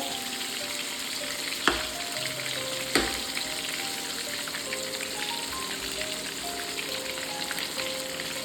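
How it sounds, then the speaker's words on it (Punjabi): Stuffed bitter gourds (karela) fry in oil in a pan, giving a constant crackling sizzle like light rain, with two brief knocks from turning them. "ਕਰੇਲੇ ਆ ਜਿਹੜੇ ਆਪਣੇ ਕਾਫੀ ਜ਼ਿਆਦਾ ਫਰਾਈ ਹੋ ਚੁੱਕੇ ਆ"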